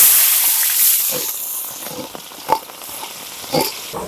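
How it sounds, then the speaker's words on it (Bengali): Beans and other vegetables frying in hot mustard oil in a wok, a loud hissing sizzle that slowly eases, broken by a few sharper crackling bursts. "কড়াইতে তেলটা খুব সুন্দর গরম হয়ে গেছে, এবার এক এক করে সব সবজিগুলো একটু ভেজে নেব"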